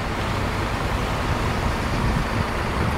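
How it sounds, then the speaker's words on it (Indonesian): A Rosalia Indah bus pulls in at a stop with a steady, loud engine and road rumble that fills the whole moment. "Datang lagi bus Rosalia Indah."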